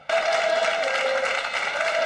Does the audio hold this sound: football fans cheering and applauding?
yes